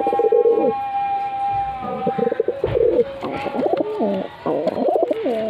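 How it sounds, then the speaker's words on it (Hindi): Madrasi pigeons in a loft in Kolkata coo in repeated throaty, rolling phrases, close and clear, with overlapping calls from several birds. "देखिए कैसा कबूतर"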